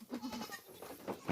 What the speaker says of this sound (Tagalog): Kinakain ng kambing.